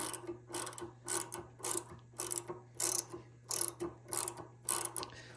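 A flex-head ratcheting tube wrench clicks in about ten quick bursts of ratcheting, each a crisp metallic rattle at close range, evenly paced in a quiet room.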